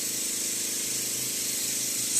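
An airbrush sprays makeup colour out to clear leftover blue, giving a steady, even hiss that runs unbroken through the whole moment and rises slightly at the end.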